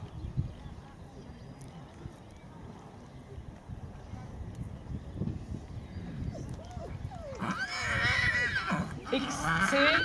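A horse trots in a dressage arena at Gunzenhausen, its hooves giving soft rhythmic thuds on the footing, with a whinny-like call rising toward the end.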